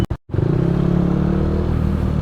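Dense motorcycle and car traffic at the Rotonda in Pasig, a steady loud engine drone with rumbling motors close by after a brief dropout at the start.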